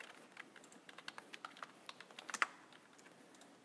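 Quiet, close typing on a computer keyboard: a quick irregular run of light clicks and taps lasting a few seconds, with one firmer keystroke near the end.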